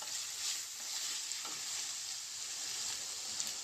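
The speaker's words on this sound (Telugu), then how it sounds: "ఇందులో పెట్టి బాగా మంచి రంగు వచ్చేవరకు వేయించుకోవాలి." Ivy gourd (tindora) fries in a pan, giving a steady, close hiss of sizzling oil with a few soft stirring scrapes and no voices.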